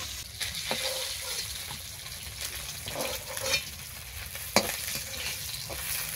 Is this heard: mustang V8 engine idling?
no